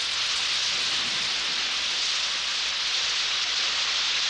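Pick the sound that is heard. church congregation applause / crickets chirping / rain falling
rain falling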